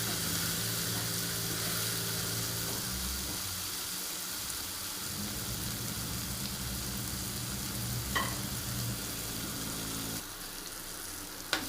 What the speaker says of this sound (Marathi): टोमॅटो नरम होईपर्यंत याच्यात फ्राय करून घ्यायचं।